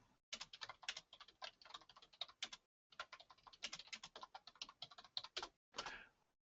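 Rapid typing on a computer keyboard, a close, steady run of clicking keystrokes that pauses briefly midway and ends with a short final burst.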